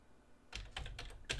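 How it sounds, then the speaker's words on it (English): Keystrokes on a computer keyboard come in quick, close clusters of several clicks, loud and distinct against a quiet room with no voices. "I'm going to type this. I'm going to type left square bracket,"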